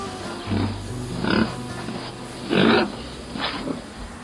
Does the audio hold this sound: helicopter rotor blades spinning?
no